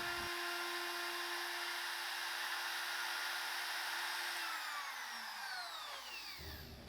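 A wood router cutting a circular groove in a board whines steadily at high pitch throughout, loud and close, its tone shifting slightly as the cut progresses and winding down at the end.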